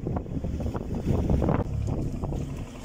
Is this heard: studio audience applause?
no